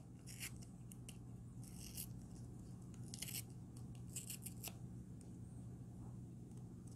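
Scissors snipping open a small powdered reagent packet from a saltwater aquarium nitrate test kit, a few short crisp cuts and paper rustles over a steady low background hum.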